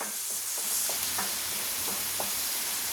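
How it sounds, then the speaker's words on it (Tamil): Spicy chicken pieces frying in oil in a pan, a continuous close crackling sizzle with scattered small pops and spatters. "இன்னுமே கொஞ்சம் நேரம் ஃப்ரை ஆகட்டும்"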